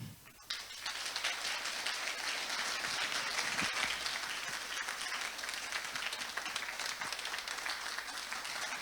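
Sustained audience applause at a Ukrainian storytelling event, starting abruptly after a brief pause and continuing steadily and fairly loud as a dense wash of many hands clapping throughout.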